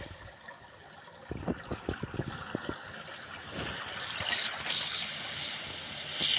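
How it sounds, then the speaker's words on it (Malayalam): Water flowing into a sewer in the video game Evil Nun, a soft continuous trickle and rush, moderately quiet, with a series of sharp knocks near the start and a brighter splash toward the end. "ഈ വെള്ളം സീവറിനകത്തേക്ക് അധികം വരാതിരുന്നായിരുന്നു."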